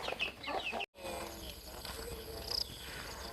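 Young chickens one to three months old peep and cluck close by on a farm during heavy rain, with a busy bed of chirps, a brief gap of silence, then more calls and a faint voice underneath.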